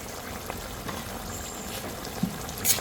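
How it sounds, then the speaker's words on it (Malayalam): Vinegar boils on the stove for a bilimbi pickle, a continuous low bubbling and simmering hiss with a few small pops, close by and steady for a few seconds, with no talking. "നമുക്ക് വിനാഗിരി നല്ലപോലെ ഒന്ന് തിളക്കട്ടെ"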